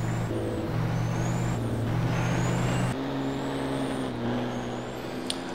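Formula Truck racing game with steady engine drone and shifting tonal hums as the truck brakes, with air-brake hiss and a faint high whistle, loud and continuous throughout.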